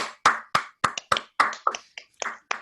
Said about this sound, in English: please put your hands together to give a rounding applause to John Nicodemus